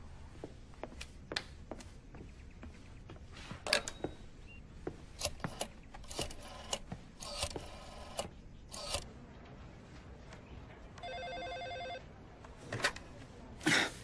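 A telephone rings in a French romance film: one short electronic trill stands out against scattered clicks and clatter in a quiet room.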